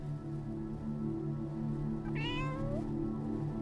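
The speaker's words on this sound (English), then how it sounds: "There's a cat on the radio." A cat meows once over a radio in a video game, a single drawn-out rising meow heard against a steady low droning hum.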